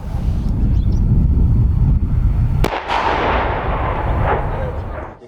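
A single heavy cannon blast from a Leopard 1A5 tank during training cracks out over steady rumbling wind noise, followed by a long rolling echo that slowly fades.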